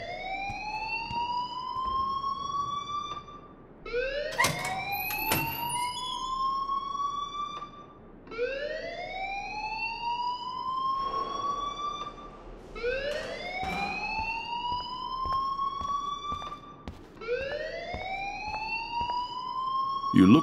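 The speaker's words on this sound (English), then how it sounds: "please turn off that alarm since that's your job" A rising, wailing alarm in the video game Life is Strange repeats in regular cycles of a few seconds, loud and insistent, with people talking over it.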